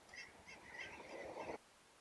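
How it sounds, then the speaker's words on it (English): Canada geese honk while flying overhead, a faint cluster of several overlapping nasal calls lasting about a second and a half before cutting off into quiet. "I saw a lot of Canadian geese passing by the sky, and they're forming these interesting patterns while they're flying"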